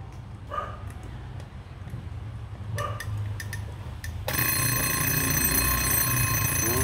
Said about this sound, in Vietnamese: Giờ em test thử chuông báo thức nha